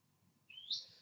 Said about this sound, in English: that bird is kind of loud, isn't he?